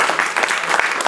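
A church congregation claps in a brief burst of applause, dense and lively with overlapping hand claps, heard up close for about a second.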